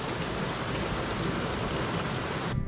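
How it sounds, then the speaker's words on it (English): Steady rain falls during a virtual London marathon run in 2020, a dense, continuous hiss of drops close to the microphone without pause, briefly thinning right at the end. "Rain."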